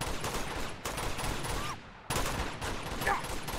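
Heavy gunfire fills an Uncharted 2 battle, loud dense volleys of rapid automatic shots with a brief break before the shooting resumes.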